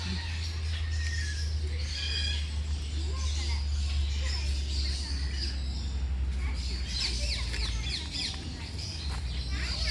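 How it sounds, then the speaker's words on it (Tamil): A Philippine bird species calls at a bird park in Hambantota, giving repeated high chirps and tweets over a steady low hum. "இது ஒரு பிலிப்பைன் நாட்டுக்குரிய ஒரு பறவை இனம்."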